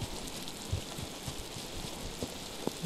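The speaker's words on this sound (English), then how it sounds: "The rain definitely helps with the noise" Steady rain falls in the island world of the video game Miasmata, a soft continuous patter with a few scattered drips, fairly faint and heard without talk.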